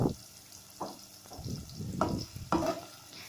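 Garlic sizzles in a pan with oil for a spicy Filipino tinolang manok, a soft frying hiss broken by clinks and scrapes of a utensil stirring, fairly quiet and close.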